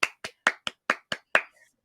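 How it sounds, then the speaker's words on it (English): Seven slow, evenly spaced hand claps ring out crisp and close, a polite, sparse golf clap with no other sound around them. "Golf clap."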